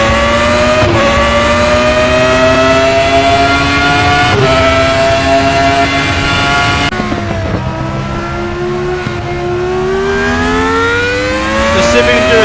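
A Formula One race car engine in the RaceRoom racing game screams at high revs, steady tones climbing through gears with brief shift dips, loud and close with no talk.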